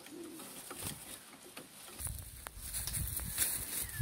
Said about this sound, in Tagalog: Yan guys, may ibon.